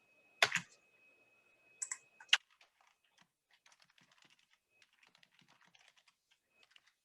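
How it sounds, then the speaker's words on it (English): Typing on a computer keyboard: a few loud close bursts of key clicks early on, then lighter, faster scattered tapping that carries on quietly in a sparse rhythm. "I hope my typing isn't super loud"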